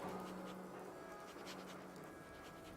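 Panting from the dog companion Dogmeat in the video game Fallout 4, a steady close breathy rhythm that runs through the whole moment alongside a faint background hum, with no talking.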